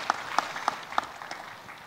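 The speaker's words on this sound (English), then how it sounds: "please give the big applause for the speaker here" A few sparse, scattered claps from a small conference audience at a high-level forest panel session, about five distinct hand claps spaced unevenly and fading out, fairly faint in a quiet room.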